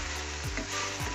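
Rice being tossed and fried in a pan over a high flame, giving a loud continuous sizzle with a couple of quick swishing tosses.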